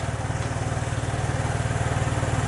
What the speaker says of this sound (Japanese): さあ、エンジン始動でございます